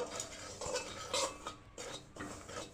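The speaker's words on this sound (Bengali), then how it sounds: "সুজিটা একটু হালকা ভেজে নেব।" Semolina is lightly roasted in a pan for a payesh, with a spoon scraping and stirring in short, quiet strokes against the metal.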